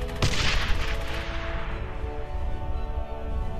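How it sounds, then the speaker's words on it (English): A sharp video game gunshot blast followed by rumbling explosion-like noise that slowly fades, loud and punchy with no talking, from Brothers in Arms: Hell's Highway. "Gunshots and explosions pack a real punch"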